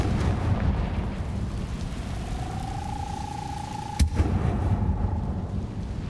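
A Confringo fire spell from the Hogwarts Legacy video game goes off as a rumbling blast, with a thin tone rising toward a sharp crack near the end over a constant low roar.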